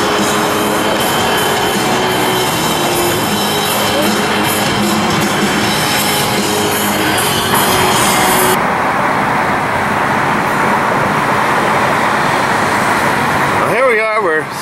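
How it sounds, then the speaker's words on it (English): Road traffic noise in Los Angeles heard from inside a slow-moving vehicle, a continuous loud rumble and hiss of engines and tyres, with a brief rustling disturbance near the end. "Still in traffic."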